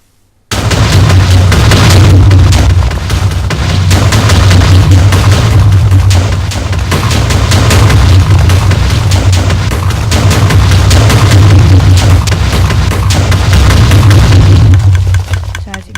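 A rapid-fire cannon built from dispensers in Minecraft lets off a dense, loud, continuous barrage of booming blasts for about fifteen seconds, then stops abruptly.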